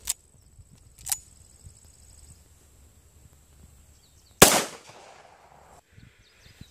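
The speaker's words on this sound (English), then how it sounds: "So we're gonna shoot a 45 ACP through there." A .45 ACP pistol round is fired into a target, a single sharp, loud report with a short ringing decay, preceded by a couple of faint clicks and quiet handling.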